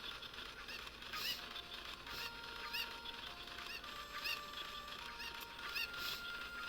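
Chickens (cuccos) in the video game Ocarina of Time cluck and squawk repeatedly in short, regular bursts over a steady background bed, moderately close and fairly faint, with no talking.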